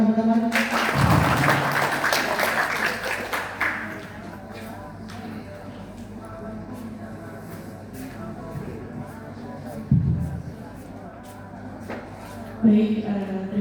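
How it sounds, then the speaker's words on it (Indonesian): An audience at a university study-program gathering breaks into a loud burst of applause lasting a few seconds, which then fades under a lone speaker's voice and scattered taps. "Tepuk tangan teman-teman."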